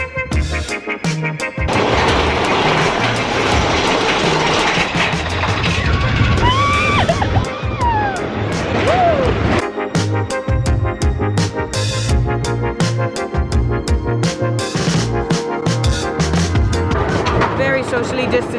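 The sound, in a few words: Big Thunder Mountain roller coaster train at Magic Kingdom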